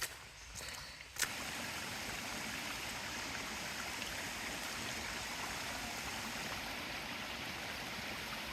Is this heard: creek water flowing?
yes